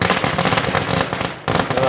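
Firecrackers burst at a political gathering in a dense, continuous crackling barrage that stays loud throughout, with a brief dip before it resumes, and voices mixed into the noise.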